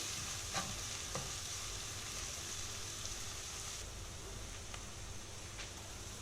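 Onions soften with a pinch of salt in a pan, giving a quiet, steady sizzle broken by a few soft clicks as a spoon stirs them now and then.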